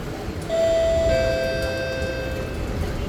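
An SMRT train door-closing chime sounds as a clear tonal ding over the steady hum of the train interior, ringing once and fading.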